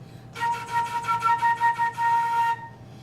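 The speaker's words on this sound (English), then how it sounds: "The first technique to learning how to play a flute is tonguing." A flute plays a quick run of short tongued notes, about a dozen detached tones in a steady rhythm, close and clear, ending in one longer held note.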